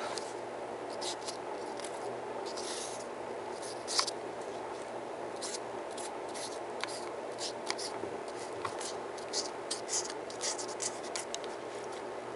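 A pen scratches out Chinese characters, soft rapid strokes and taps over a steady low room hum, close and quiet, in a series of short bursts.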